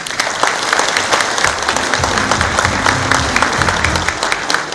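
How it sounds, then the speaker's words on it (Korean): Applause from an audience at a Rotary district governor inauguration ceremony, dense steady clapping that fills the whole stretch, loud and close, with some crowd murmur underneath. "힘찬 경제의 박수를 좀 보내주시기 바랍니다"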